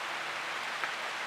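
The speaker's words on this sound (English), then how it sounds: "And the rain is back." Rain falls steadily in a broad, even hiss, moderately loud and unbroken, with no voices over it.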